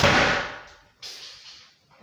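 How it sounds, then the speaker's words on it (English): An industrial door bangs shut, making a loud booming slam that rings and decays, then a second, softer impact follows about a second later. "It is an industrial door, and industrial doors are loud when they bang shut."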